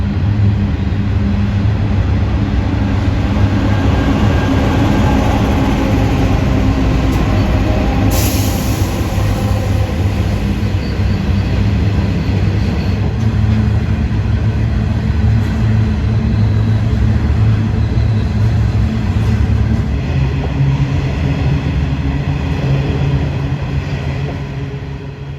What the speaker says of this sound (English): Now approaching on the up Kooragang line are 3 locos, a 93 class at the front, then a 92 and then another 93 class.